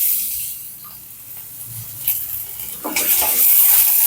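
Quiet at first, then a sudden loud hiss and crackling sizzle as chopped onions and curry leaves hit hot oil, continuing strongly to the end.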